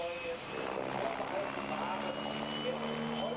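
Helicopters perform stunts at an air show by Schönefeld airport near Berlin, producing a steady, fairly loud rotor and engine drone with faint tonal whine throughout.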